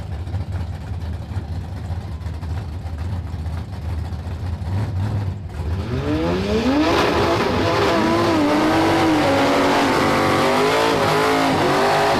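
A 1979 Malibu wagon with a nitrous small block launches against an injected Dodge truck at a no-prep drag race, engines idling loudly before a sharp, roaring acceleration that builds and stays intense.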